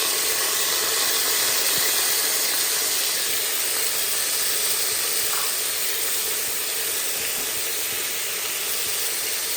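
Onions frying in a pan before tomatoes go in, a continuous loud hiss and sizzle of hot oil filling the whole stretch with no talking.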